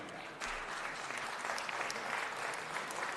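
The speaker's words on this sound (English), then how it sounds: "Let's give them a big round of applause." Audience applause at a city council meeting, steady sustained clapping from a room of people, moderately distant and even in level throughout.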